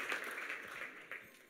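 Faint applause from a church congregation, a short patter of clapping that sounds distant and thin, swelling briefly and then fading, with no voices over it.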